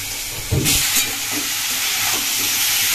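Pumpkin is added to a hot pan of oil tempered with dried red chilli, bay leaf and cumin, setting off a loud burst of sizzling that settles into steady close frying, with a few stirring knocks.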